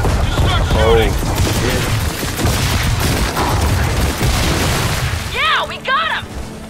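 Explosive booms and bursts of gunfire from a Gears of War 4 firefight, loud and continuous, with voices talking over the battle and a short gap near the end.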